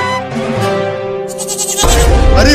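A cartoon goat kid bleats in a long, wavering, nasal cry, followed by a second, louder bleat that breaks off abruptly, close and alone.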